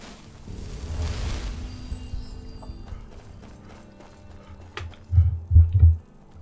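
A horse in the video game Skyrim moves with soft hoofbeats that are fairly quiet at first. Three heavy, close thuds follow near the end, with no speech over them.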